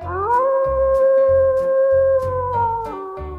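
A wolf howls in a long, sustained rising-then-level wail, loud and close, sliding down slightly near the end over a low rhythmic rumbling background.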